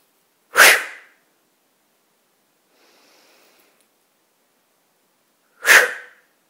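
Two strong breaths blown out during a calm relaxation exercise, each a short whooshing exhale, with a faint quiet breath between them in near silence.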